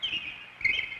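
A North American songbird, the American robin, sings in spring fields and forests; short bright chirping phrases sound in two bursts, moderately loud and close, over a faint low background murmur.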